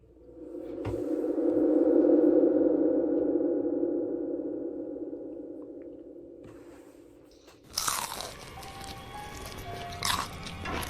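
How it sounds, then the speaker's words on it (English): Crunching from someone eating close to the ear, a loud sustained munching sound that fades, then a burst of sharper crisp crunches and rustles after a pause. "It's the crunching in my ear for me."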